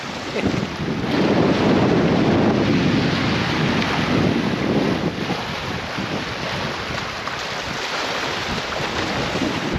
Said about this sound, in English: The wind is not tailed off at all, as windy as it has been.